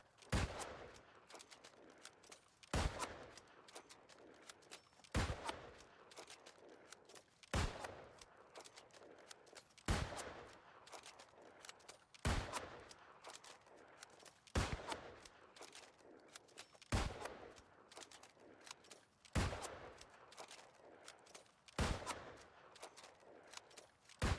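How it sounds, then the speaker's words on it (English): Musket shots from hip fire in the video game New World crack out one at a time, about ten of them, evenly spaced a couple of seconds apart, each with a short tail, at a fairly low level. "I'm just going to line up my shot and I'll start hip firing."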